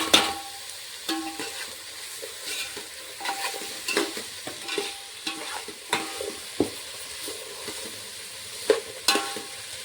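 Tomato and other vegetable pieces fry in a pan for kichdi, with a steady soft sizzle broken by frequent clinks and scrapes of a spoon stirring, close and fairly quiet.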